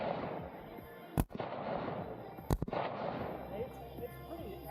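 Two sharp .22 rifle gunshots at outdoor target practice in the mountains, spaced over a second apart and standing out loudly over steady background noise and faint voices.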